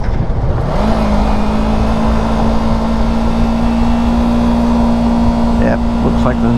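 A car driven on a country road drops down through the gears: the engine note climbs sharply about a second in, then holds a steady, close, droning pitch through to the end.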